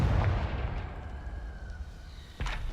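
A Confringo fire spell exploding in the video game Hogwarts Legacy, with a heavy booming blast that rolls off at the start and a second sharp burst near the end.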